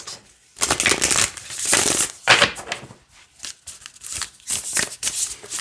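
A deck of flexible self-care wisdom cards is shuffled by hand, repeated rapid riffling bursts of papery flutter and slapping, close and crisp, separated by brief pauses.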